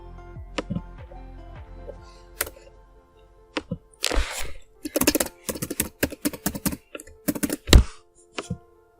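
A computer keyboard clacks as a business email address is typed. Sparse single key taps come first, then dense, rapid bursts of crisp keystrokes close to the microphone.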